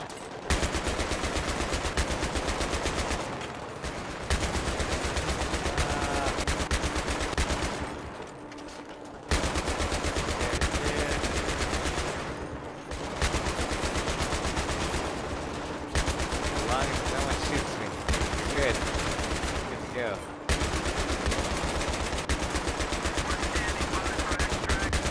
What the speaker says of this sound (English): Got the light machine gun.